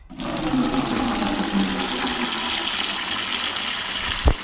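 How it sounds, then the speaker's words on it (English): Water drains from an LG washing machine hose into a bucket, a loud, steady gushing rush close by that runs without a break, ending with a brief knock. "We direct water into the bucket."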